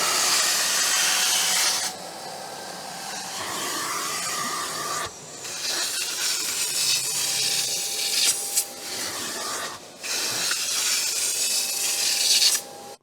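A carpet extractor cleans a seat in a Toyota Hilux service truck, giving a steady close hiss and rushing suction with a few brief dips and surges and scrubbing rubs over the fabric.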